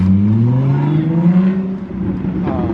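Ford Mustang revving and accelerating hard, a loud close engine note climbing in pitch over a few seconds with a brief second surge near the end, no talk over it.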